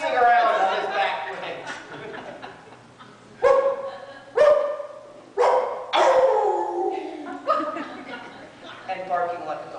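In a school stage play of Cinderella, an actor imitates a dog with a series of loud, close, voiced bark-like yelps, some drawn out and whining, spaced irregularly over several seconds.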